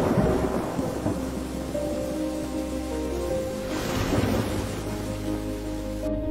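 Thunder rumbles through a steady downpour of rain and gusting wind beating against a house, a dramatic storm effect for a parable, loud and sustained for the whole stretch with a heavier surge near the end.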